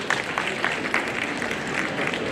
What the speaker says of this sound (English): Please offer a round of applause to ma'am.